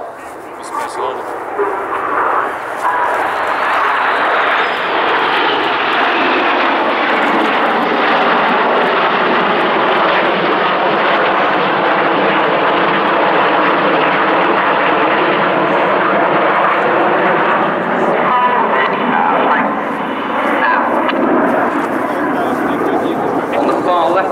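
A loud Red Arrows display jet roars past close overhead during a shuttle roll at RIAT, its engine noise swelling and holding steady for a long stretch, with a voice talking over it.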